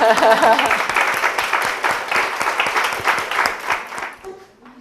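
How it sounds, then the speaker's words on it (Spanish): An audience claps in steady applause that fades out near the end, with a voice briefly heard at the start. "Un aplauso para"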